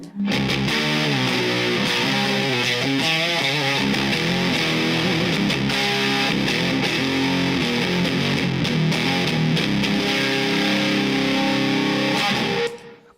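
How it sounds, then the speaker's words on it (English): Electric guitar played through a Seymour Duncan fuzz pedal, a gritty, fizzy, saturated tone holding steady and loud for about twelve seconds before cutting off. "That is a fuzz pedal, and let's listen to see what that sounds like."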